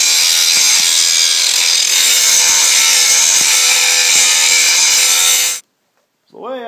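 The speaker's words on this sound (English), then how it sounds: "So now, get to grind for a while." A handheld grinder works a steel plow hitch for a sweep plow, a loud, steady, harsh grinding roar for about five and a half seconds before it abruptly stops, followed by a brief faint noise.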